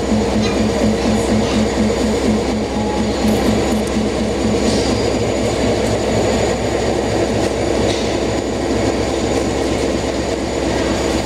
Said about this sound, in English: This is possibly the train that I should take back to Newmarket.